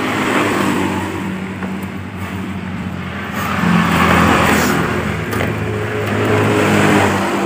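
A motorcycle with a hard starter and stiff kick start, engine running steadily and revving louder in two swells, a close, continuous drone with no talk over it.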